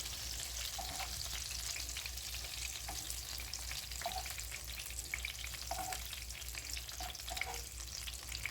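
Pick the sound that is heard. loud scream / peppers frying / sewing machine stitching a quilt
peppers frying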